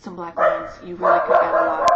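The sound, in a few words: dog barking in the background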